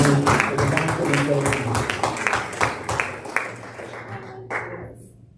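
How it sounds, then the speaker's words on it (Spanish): A church congregation applauding, a dense run of rhythmic clapping from many people with a voice speaking over it, fading out toward the end. "Dale un fuerte aplauso al Señor"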